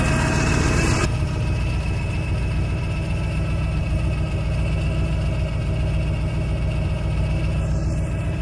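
A 1941 Ford Coupe hot rod idles steadily with the hood down, a loud, even low-pitched engine rumble with a brief higher burst of noise at the very start.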